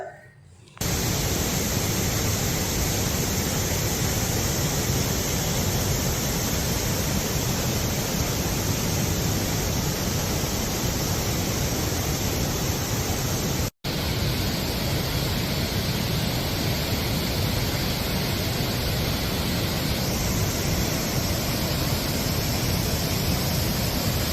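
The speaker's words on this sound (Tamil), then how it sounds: "மெயின் அருவியில் தண்ணீர் ஆர்ப்பரித்து கொட்டியது" The main falls of a waterfall roar under heavy flow, a dense, loud, unbroken rush of water that fills the whole stretch, cut only by a brief dropout midway.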